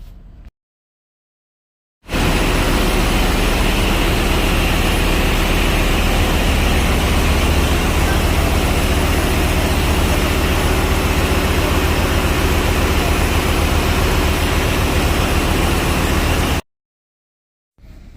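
Loud, constant roar of a six-cylinder main engine running in the engine room of a Handymax vessel, a dense broadband drone with deep low rumble that holds steady between brief silent gaps at the start and end.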